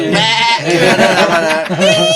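A man imitates a goat's bleat with a loud, wavering, nasal voice held for about two seconds, close to the microphone.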